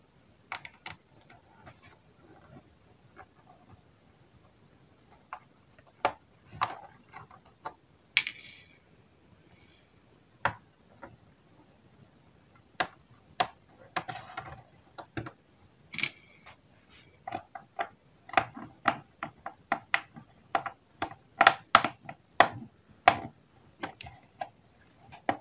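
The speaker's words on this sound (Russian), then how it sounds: "Берем подходящую крестовую отверточку. И откручиваем сначала раз, два, три," A Phillips screwdriver turns the screws out of an HP 17-by2015ur laptop, giving faint, irregular close ticks and small clicks, with short bursts of rapid clicking spread over the clip.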